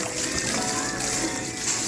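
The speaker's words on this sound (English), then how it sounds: "I'm squeezing the leaves while I'm rinsing them out" Running water splashes and trickles steadily as cooked bhaji leaves are squeezed and rinsed by hand, a close, continuous wet sloshing with no pauses.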